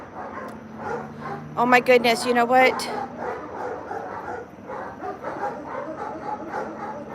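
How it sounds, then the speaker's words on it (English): Dogs bark and yip excitedly in a quick cluster, up close, while someone talks over the commotion. "So as you can hear, all of my dogs."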